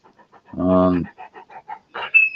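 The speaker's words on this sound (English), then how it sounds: "Great dog, great company." A year-old puppy pants in short, regular breathy puffs, with a louder harmonic vocal sound partway through and a brief high squeak near the end.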